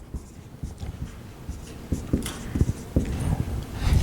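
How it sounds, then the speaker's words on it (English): Chalk or a marker taps and scratches across a board during an engineering lecture, giving a string of short, irregular strokes and clicks that are close and moderately loud, with no one speaking. "I'm going to write it down"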